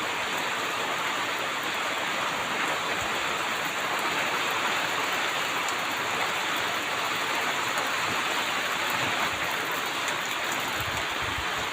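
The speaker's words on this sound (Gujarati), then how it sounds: "વરસાદની મોજ" Steady, dense rain falling, a loud, unbroken hiss that holds evenly throughout with no voices.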